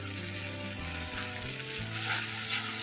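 Cashew and melon seed paste fries in a pan with a steady, close sizzle, broken by a few soft scraping stirs and low clunks, no voices.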